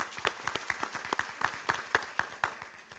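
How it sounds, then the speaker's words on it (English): A small audience claps for a round of applause at a student leadership event, with scattered individual claps at a moderate distance forming a loose, uneven patter rather than a dense roar. "Let's get a round of applause for them."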